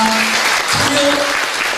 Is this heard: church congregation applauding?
yes